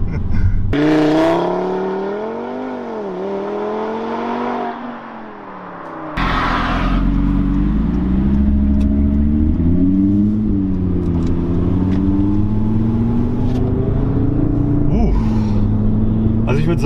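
An Audi RS3 with a five-cylinder engine makes a launch-control start with stability control off. The engine note climbs loudly, drops at a gear change, then rises again in a strong, close, sustained pull.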